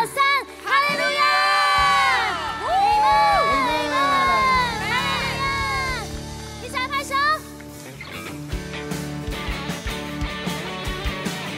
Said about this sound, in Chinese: 数到三，给神一个最大的欢呼